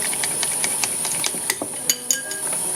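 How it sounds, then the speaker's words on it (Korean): Quick, rhythmic clinking of a utensil against a bowl, like an egg being beaten, with light metallic taps and no talking. "계란을 하나 풀어줍니다. 계란을 풀어주세요."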